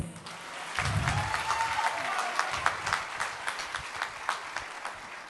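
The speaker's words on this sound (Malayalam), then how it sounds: "ആളുടെ ടെൻഷൻ മാറാൻ നന്നായിട്ടൊന്ന് കൈയടിച്ചേ പ്ലീസ്" Audience applause fills the hall at the Lions Club Oman Master Chef 2024 cooking competition final as the winner is announced: steady, dense clapping from a crowd that holds fairly even and then thins into scattered sharper claps.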